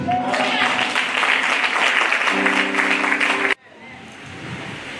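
A congregation at a Christmas Eve service claps loudly in sustained, dense applause with a steady tone alongside it. The clapping cuts off abruptly near the end, leaving quieter room noise.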